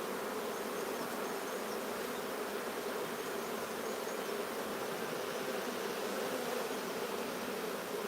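Honey bees buzz inside a nuc box during a colony transfer, a dense, steady droning hum that fills the space close by without letting up.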